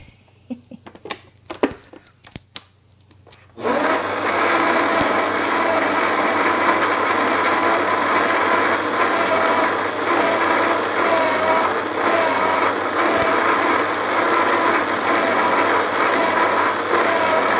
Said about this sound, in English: I know I need to let that mix around a little bit more.